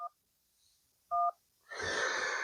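Dialing tones from an iPhone 12 Pro Max on the emergency call screen: two short, clean keypad beeps separated by silence, followed by a burst of broader electronic noise from the phone's speaker.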